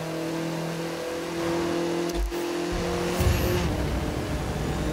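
An Audi TT RS in The Crew 2 racing game accelerates with a steady engine drone, then a sudden thump and a rising rev with tire noise partway through, loud and continuous with no talking.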